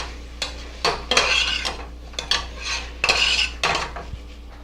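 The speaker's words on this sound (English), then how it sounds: "Give this a good stir so we can get those onions off the bottom of the pan" A utensil scraping and clinking against a pan while onions are stirred in oil, several uneven scrapes in quick succession, close and fairly loud, with a faint sizzle underneath and no voices.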